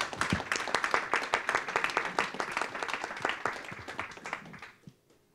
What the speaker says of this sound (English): let's end on the claps